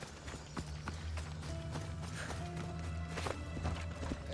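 A horse gallops in Assassin's Creed Odyssey, its hooves clip-clopping in a fast, steady rhythm that stays close and even, with game ambience running underneath.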